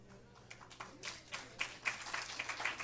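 Lecture audience breaks into brief scattered applause, faint and distant, building slightly over a few seconds in a large hall.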